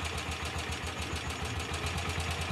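A motorcycle engine, just kickstarted with the choke on, runs in a steady idle with a regular low thumping pulse and vibration, close and continuous with no voices.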